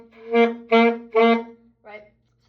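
A saxophone sounds short, detached staccato notes with forward tonguing: three firm, evenly spaced blasts followed by a softer fourth, each clearly separated by brief silence.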